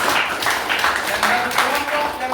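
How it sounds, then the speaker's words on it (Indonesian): Scattered clapping from students applauding a group in a classroom after a presentation, a brief patter of hands mixed with voices talking over it. "Silakan memberikan aplaus buat kelompok"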